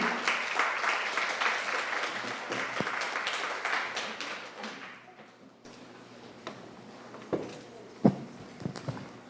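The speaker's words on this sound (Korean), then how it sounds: "박수로 맞이해 주십시오." Conference audience applauding to welcome a speaker to a coaching session; a full, steady round of clapping for about five seconds fades into a few scattered claps and small knocks.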